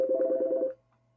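A mobile phone gives off a short buzzing electronic ringing tone, a steady pulsing note that cuts off abruptly after under a second, leaving quiet.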